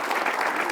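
A brief burst of audience clapping welcomes poet Anamika Amber at a kavi sammelan, a dense, even wash of applause from a crowd.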